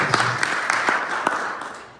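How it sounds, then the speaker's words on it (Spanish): A church congregation at a Spanish-language service breaks into a short burst of applause. The clapping is dense and fairly loud, with a few sharper claps, and it fades out over two seconds. "Vamos a aplaudir al Señor."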